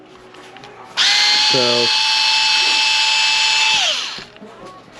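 Cordless power driver backing out 2.5 mm screws on a Redcat Machete RC car, a loud high-pitched whirring burst lasting about three seconds with a brief clicking rattle near the start, then winding down, with a few spoken words around it.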